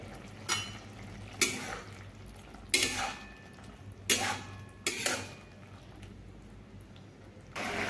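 A handful of scattered metallic clanks and scrapes from a lid and utensil on a frying pan holding ridge gourd, six sharp knocks spaced a second or so apart over a faint low background, no speech.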